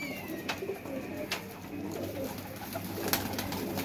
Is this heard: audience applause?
no